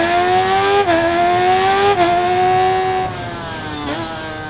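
2014 Suzuki GSX-R 1000 motorcycle in the Ride 5 racing game, its engine screaming at high revs with brief dips at gear shifts, loud and continuous.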